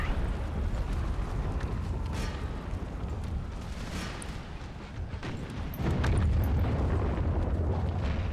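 Artillery guns fire at a mob in Empire: Total War, dull booms and rumbling blasts rolling over a noisy battlefield, growing heavier toward the end.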